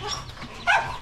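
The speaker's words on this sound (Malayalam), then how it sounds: "ദേ ഒരു പട്ടി." A single dog gives a short, close bark or yip partway through, heard among the caged birds and rabbits of a home animal enclosure, with low background noise and no talk.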